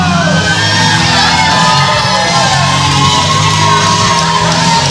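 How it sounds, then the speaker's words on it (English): Wrestling crowd at a PCW Limelight show shouting, cheering and whooping continuously, loud and dense throughout, with scattered yells rising over the steady roar of fans. "I'm sure I heard a few woos when he was doing that"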